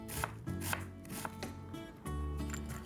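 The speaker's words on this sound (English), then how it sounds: "when you cut the onion from the top down, you will notice that you get evenly nice small pieces" A knife chops onion on a board in steady, close, evenly spaced thuds, about five cuts in quick rhythm followed by a longer pressing cut.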